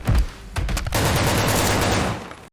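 A loud burst of gunfire: a couple of sharp shots, then a sustained rapid volley that cuts off abruptly.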